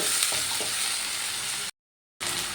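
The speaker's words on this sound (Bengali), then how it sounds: "এবার আমি পেঁয়াজের সাথে আলুগুলোও ভালো করে ভেজে নেব" Potatoes and onions frying in oil in a pan for a Bengali banana-stem dish, a steady close sizzle with a few light stirring clicks, cut off by a short gap of silence before resuming.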